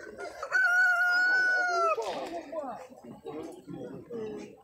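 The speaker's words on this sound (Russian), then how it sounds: "Здесь много кур разных, красивых" Chickens at a poultry fair cluck and a rooster crows nearby, the long crow rising loud and clear and then trailing into softer clucking and bird calls; someone talks over part of it.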